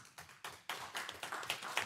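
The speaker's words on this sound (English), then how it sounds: "So big round of applause." Scattered claps from a council meeting audience start sparse and build into fuller applause over about two seconds, faint and indoors.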